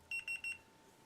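Three short, close, high-pitched electronic beeps in quick succession from a multimeter on continuity test, probes touched across the connections of a Bose SoundDock being repaired; faint hum follows.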